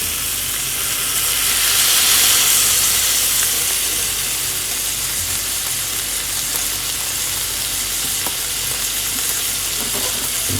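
A burger patty for an odd cheeseburger sizzles steadily in a pan, a dense, even frying hiss that stays loud and continuous with no talking.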